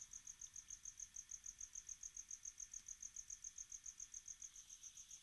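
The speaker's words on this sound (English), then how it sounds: "There's a cricket somewhere up here." A cricket chirps steadily somewhere up in a room where a baseball podcast is recorded, giving a continuous train of rapid, even, high-pitched pulses that stays fairly faint and alone, with no talk over it.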